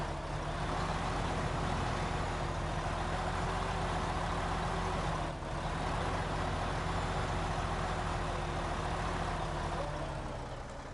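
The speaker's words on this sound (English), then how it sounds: "I can't hear over the truck" Heavy truck engine in the Snowrunner video game, a steady low drone with constant harmonics running loud and continuous throughout, close and unbroken.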